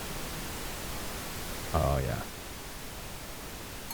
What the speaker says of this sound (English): We got pink noise.